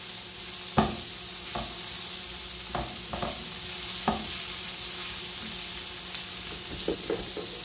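Onions and mushrooms sizzling in a pan, a steady frying hiss with occasional scrapes and knocks of a spoon stirring, close and moderate in level, with no voices.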